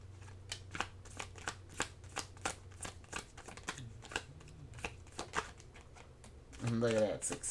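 Tarot cards are shuffled by hand in a steady series of soft riffling snaps, close and clear, with a person speaking briefly near the end.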